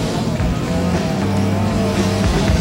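Race cars competing in a three-hour ice endurance race, a dense, continuous engine roar with low rumbling and a broad wash of noise, loud and steady throughout.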